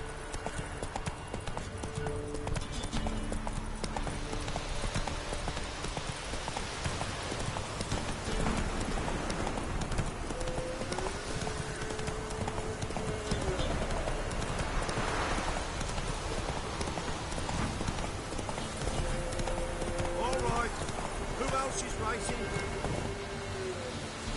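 A horse gallops steadily in The Witcher 3, its clip-clop hooves drumming in a continuous rhythm under game music and characters' voices, with the hoofbeats staying close and prominent throughout.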